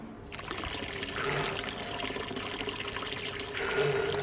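The pump of a BrewZilla Gen4 brewing vessel circulates rinse water, giving a continuous trickling, splashing flow over a low pump hum, swelling slightly louder toward the end.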